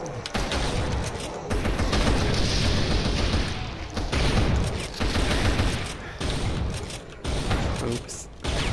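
Shotgun blasts and gunfire in Brutal Doom on an Ultra Violence run, dense repeated loud booming shots that overlap with other in-game combat noise, with brief gaps and a voice talking faintly beneath.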